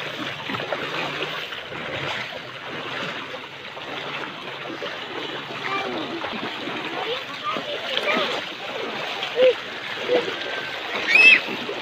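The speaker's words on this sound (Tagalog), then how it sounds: "Dito naghiwalay ang ilog" A river flowing over rocks where it splits around a mountain in a rocky natural setting, with a moderate, continuous rush and splash of water and voices faintly in the background.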